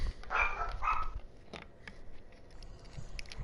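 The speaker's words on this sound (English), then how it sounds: "I hear puppies." Small Chihuahua dogs barking, two sharp yaps close by early on, then quieter scattered yips and rustling.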